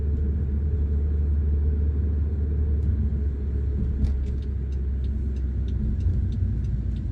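A car drives steadily during a road test in Dartmouth, Nova Scotia, its continuous low engine rumble and road noise filling the cabin, with a few faint ticking clicks like a turn signal partway through.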